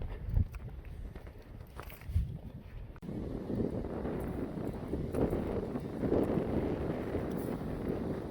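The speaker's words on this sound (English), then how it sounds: "It's quite windy. I'm not sure how it's affecting the microphone." Wind buffets the microphone on a woodland walk along the Upper Horseshoe path, a steady low rumble that swells in the second half, with faint footsteps underneath.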